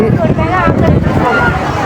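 Strong wind blowing by the sea at Nainativu island in the evening, throwing up spray, as a loud, continuous roar and buffeting heard under a voice talking throughout.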